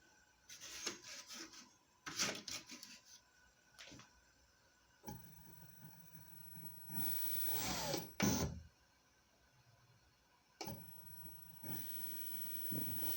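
A Siruba electronic straight-stitch industrial sewing machine runs in short bursts, with whirring stitching runs starting and stopping several times and quiet gaps between them.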